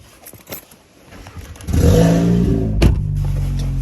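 A Rolls-Royce engine cold-starts early in the morning: after quiet handling noises, the starter catches around the two-second mark and the engine settles into a loud, steady idle with a brief rev spike near the end, close by and with no talking.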